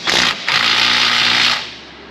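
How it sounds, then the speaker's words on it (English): Impact gun loosening a nut on an older Ford F150, a loud close pneumatic buzz that hammers in a short burst, pauses briefly, then runs steadily for over a second before cutting off. "Coming in with the impact gun."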